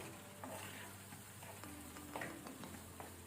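Sweet corn masala is stirred slowly in a pan over a gas flame, giving a soft continuous sizzle broken by light scraping strokes of the spoon, quiet and with no talking.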